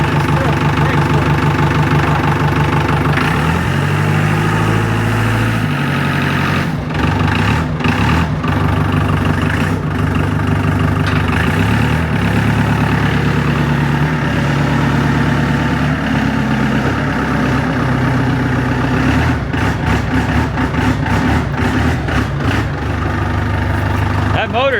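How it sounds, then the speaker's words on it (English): A truck engine idles steadily for a long stretch with a rumbling, slightly knocking tone, close and loud, while people talk over it. "That motor sounds good."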